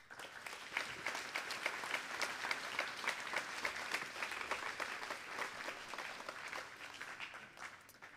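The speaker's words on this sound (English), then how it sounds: "I ask that you give yourselves and the people around you a round of applause." Crowd applause at a Year 12 graduation ceremony, a steady patter of many hands clapping in a large room, fairly faint and distant, continuing without speech.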